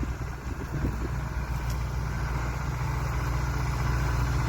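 A cultivating tractor rumbles nearby with a steady, loud engine drone that holds and slightly swells as the machine moves close past in a field.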